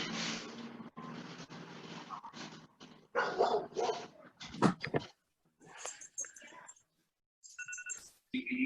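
A dog barks intermittently, moderately near, during an online meeting, mixed with people talking and a few electronic chime-like tones.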